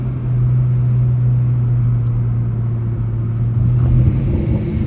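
A 2015 Ford Mustang with a 3.7-liter V6 drones steadily beneath a bridge with the window down, a loud, close, even engine hum holding one tone for several seconds before easing off.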